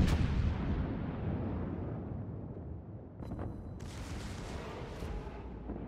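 US battleship secondary guns fire in World of Warships: a heavy, booming blast decays into a long rumble, followed by further sharper gun reports with crackling bursts.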